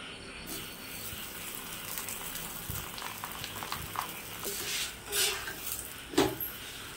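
Food dropped into hot oil on a heated tawa fries with a steady, moderate crackle and sizzle, broken by a few light clinks and a sharper pop or scrape near the end.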